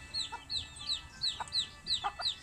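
Chickens clucking in a rural yard, a rapid series of short, bright clucks repeating in quick succession, fairly close and clear against a quiet background.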